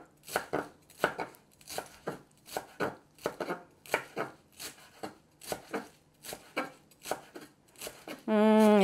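Knife chopping fresh cilantro on a cutting board, a close series of sharp, evenly paced thunks with soft rustles between strokes, ending in a brief louder tonal sound.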